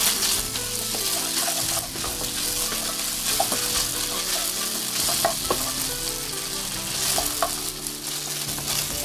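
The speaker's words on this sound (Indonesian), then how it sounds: "panaskan kurang lebih 1 sendok makan minyak goreng dan tumis daging ayam." Chicken breast meat sizzles in hot cooking oil as a spatula stirs and scrapes the pan at irregular moments, close and continuous, with no one speaking.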